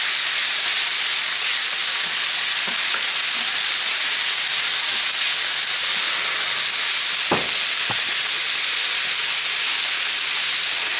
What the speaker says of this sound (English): Cooking sausage, peppers and onions,